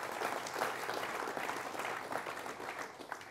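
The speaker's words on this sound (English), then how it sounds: "Please give them a big round of applause" An audience at a science panel discussion on energy and gas gives a sustained round of applause, dense even clapping from a room full of people, steady throughout without talk.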